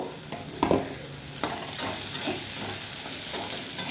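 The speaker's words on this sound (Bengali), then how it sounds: "এই পেঁয়াজের সাথে আমি আলু বেগুনটাও ভেজে নেব।" Onion frying in a pan together with potato and brinjal, a steady broadband sizzle with a few sharp scraping stirs near the start, close and moderately loud throughout.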